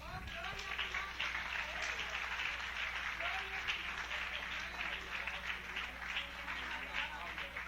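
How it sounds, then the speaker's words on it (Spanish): A church congregation applauds for the Lord in steady, dense clapping that runs throughout, moderately loud and filling the hall, with a few voices mixed in. "Dale un aplauso al Señor."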